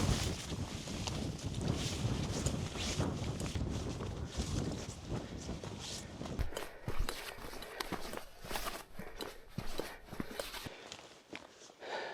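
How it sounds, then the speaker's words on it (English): Cold wind gusting across an exposed Stirling Range mountain ridge in Western Australia, a loud, continuous rushing roar buffeting the microphone, easing somewhat partway through, with scattered crunching steps of a lone hiker. "The wind."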